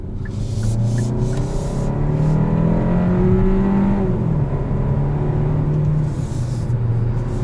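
A 2021 Kia K5 GT-Line AWD with a 1.6-liter turbocharged four-cylinder drives along, its engine tone climbing and settling through acceleration over a constant road rumble, heard from inside the cabin.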